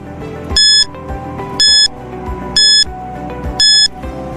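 A quiz countdown timer: four loud, evenly spaced electronic beeps about one second apart, each a bright ringing tone, over a soft running musical backing with no talking.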